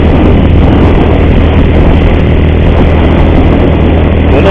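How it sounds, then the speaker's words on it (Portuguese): A motorcycle engine with a strange, ugly noise from its timing chain runs loud and close, a constant dense mechanical drone with a low rumble and no change in pitch. "Barulhinho estranho na moto também, galera, muito feio na corrente de comando."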